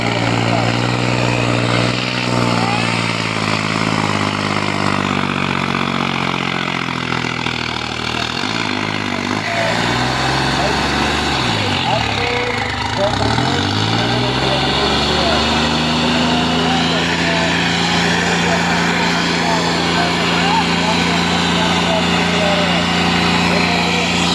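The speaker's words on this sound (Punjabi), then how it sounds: "ਟਰੈਕਟਰ ਆ ਜਿਹੜਾ ਹੁਣ ਆਪਦਾ ਸਟਾਰਟ ਹੋ ਗਿਆ" A tractor engine drones steadily throughout at a trolley pulling contest, a loud continuous run with shifting pitch as it works, over constant crowd and announcer talk.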